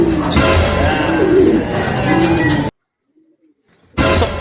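A racing pigeon lands at the loft amid loud, close rustling and flapping with low cooing underneath; the noise cuts out for about a second of near silence before resuming abruptly.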